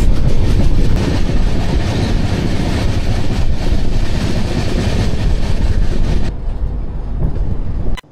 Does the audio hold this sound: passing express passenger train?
yes